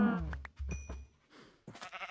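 Sheep in the Minecraft video game bleat several times in short, wavering calls, close and fairly clear, with brief gaps and soft thumps between them and no talking.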